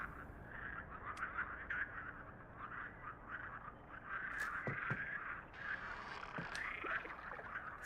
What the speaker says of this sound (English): Frogs.